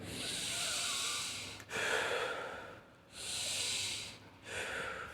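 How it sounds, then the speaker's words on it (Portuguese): A person demonstrates shallow chest breathing, taking several loud, quick, airy breaths in and out close to the microphone with short gaps between them and no talking. "Essa respiração que eu estou fazendo, ela é ansiogênica"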